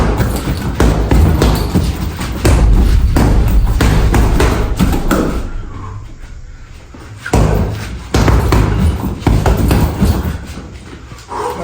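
Punches landing on a low-hung punching bag, a run of heavy, close thuds in quick bursts with a short pause in the middle before the strikes resume.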